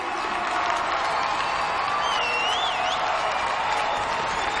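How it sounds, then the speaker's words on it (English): A large crowd in London applauds and cheers steadily at a peace conference, with whoops and shouts rising over the dense clapping throughout. "Big round of applause, please, London."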